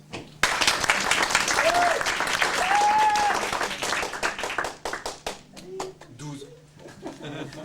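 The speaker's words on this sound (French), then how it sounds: "je vous propose là d'applaudir tout de suite." Audience applause in a cabaret hall, a sustained burst of many hands clapping that starts abruptly, swells for several seconds, then thins into scattered claps, with a few voices calling out over it.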